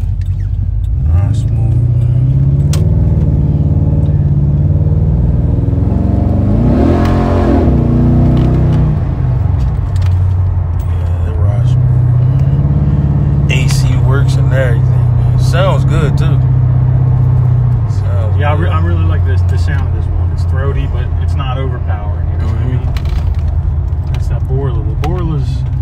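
A Chevrolet Impala SS exhaust rumbling steadily at low pitch throughout, with the engine swelling briefly midway, while people talk over it.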